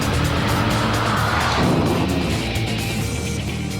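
Race car lapping a circuit in Gran Turismo 4, a loud continuous engine drone with a brief harsh scrape or skid partway through, then settling back into a steady high roar, close and alone.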